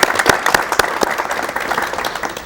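Enthusiastic applause from a studio audience welcoming a piano trio's musicians on a 1984 Korean television show, sharp claps scattered and overlapping, steady throughout and fairly close.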